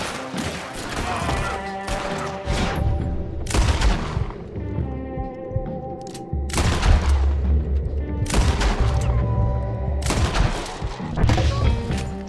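Gunfire in Red Dead Redemption 2, with loud, booming shots cracking out in irregular clusters, each followed by a ringing tail and rumble, repeating across the stretch amid other game sounds.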